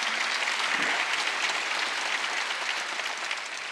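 A church congregation at a Wednesday service breaks into sustained, even applause, a dense roomful of clapping that holds steady for several seconds and tapers slightly at the end.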